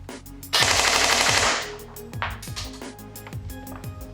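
An airsoft gun fires a rapid burst through an Xcortech X3500 chronograph, a loud continuous rattle of shots lasting about a second, followed by a few separate single shots and clicks.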